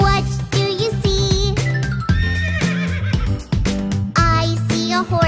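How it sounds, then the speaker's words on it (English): A cartoon-style horse neigh, voiced in a children's nursery-rhyme song, whinnies repeatedly over bright sing-along music, loud and close. "I see a horse. Neigh,"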